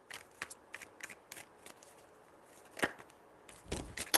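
Soft, quick riffles of tarot cards being shuffled, a series of light papery flicks with a couple of louder snaps near the end.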